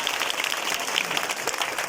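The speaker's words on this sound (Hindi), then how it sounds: "ताली पीटो, ताली पीटो" Applause from an audience at a youth motivational gathering, a dense, steady patter of many hands clapping continuously throughout, with no clear voices over it.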